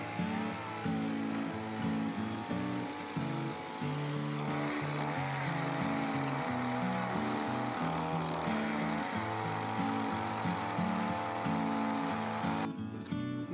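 A chainsaw engine drones steadily for a long stretch, revving and bogging as it cuts a wooden plank from a log, loud and close throughout.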